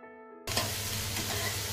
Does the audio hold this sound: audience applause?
no